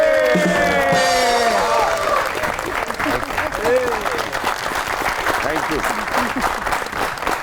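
A television studio audience applauds loudly for an arriving guest on a talk show, a dense sustained wash of clapping with some cheering, while a host speaks over it.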